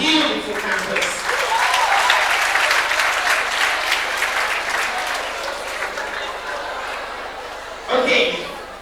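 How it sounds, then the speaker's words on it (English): A university lecture audience applauds a guest speaker: dense, sustained clapping with a hint of chuckling, easing slightly before a short final swell of claps. "you done clapping, you done talking, it's my turn"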